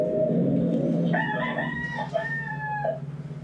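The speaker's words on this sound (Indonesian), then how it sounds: "Oh, bunyi ayam ya." A rooster crows loudly and close by, one long drawn-out call with a stepped, wavering pitch that fills most of the clip, over a steady low background hum.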